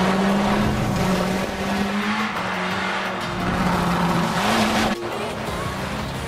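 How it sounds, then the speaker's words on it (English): A Ford Fiesta driven in Forza Horizon 4, its engine humming steadily with pitch rising and falling through gear changes, loud and close, with faint tire noise and no speech. "we are driving the Ford Fiesta"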